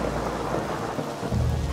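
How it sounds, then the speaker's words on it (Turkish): Thunder rumbles through a Minecraft thunderstorm, heavy rain hissing steadily underneath while a deep roll swells near the end. "Çabuk çabuk, fırtına şiddetini arttırıyor."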